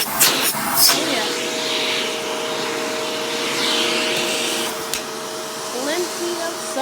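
A Shark Rotator Powered Lift-Away NV650 vacuum cleaner runs with a steady whine and airy rush that stays near and even. A few bumps and clatters from the cleaning head break through the drone.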